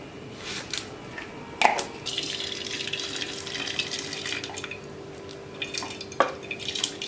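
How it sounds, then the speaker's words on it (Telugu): Cooking water from boiled dal is tipped off into a bowl in a home kitchen, heard as intermittent splashes and drips with a few sharper trickles, fairly quiet and without speech. "ఇలా ఈ వాటర్ని కొంచెం మనము పక్కన ఒక సైడ్లో ఒక గిన్నెలో వంపుకోవాలండి"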